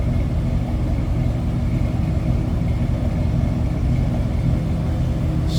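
A 1954 Ford Crestline four-door sedan with a mild exhaust idles steadily, a low continuous rumble heard close up for several seconds.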